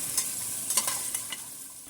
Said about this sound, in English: Stir fry the pork ribs until each piece is coated with brown sugar.